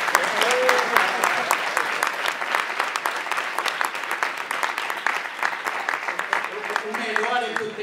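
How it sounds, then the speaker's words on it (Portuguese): A dense round of audience applause fills a panel discussion marking twenty years of the film Madame Satã, with many hands clapping continuously and evenly, close and loud throughout. "Aplausos."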